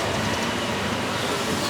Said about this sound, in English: Sky train straight above.